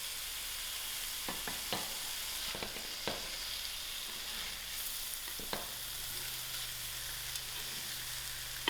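Tomatoes frying with masalas in a pot for biryani dhal, a soft, continuous sizzle with scattered small pops and clicks, no speech.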